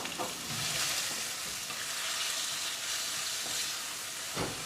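Chopped onions fry in hot oil with cumin and coriander seeds, giving a steady close sizzle with a few soft stirring scrapes and no talking.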